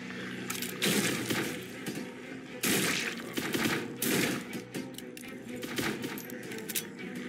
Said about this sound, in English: the revolver kinda sucks. You gotta shoot once, stop. Shoot once, stop.